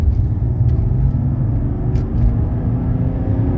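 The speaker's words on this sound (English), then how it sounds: "we're getting onto the Georgia Autobahn here, and we're gonna have to do a rolling 0 to 60" A 1995 Mercedes E300 moves along a busy highway, a steady loud low engine and road rumble from inside the car, with no voices over it.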